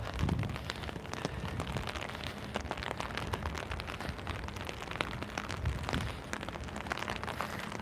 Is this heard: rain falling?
yes